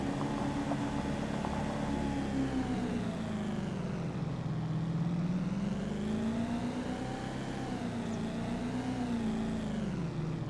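A Nissan GTR sports car in Farming Simulator 25 drives with a steady, loud engine drone whose pitch dips and climbs again as it revs, heard continuously on its own for about ten seconds.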